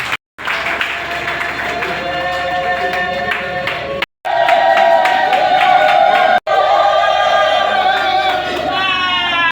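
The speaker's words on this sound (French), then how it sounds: "On peut l'applaudir." A political gathering's audience breaks into loud applause with cheering and whoops, a dense sustained roar of clapping and voices interrupted by two brief cuts.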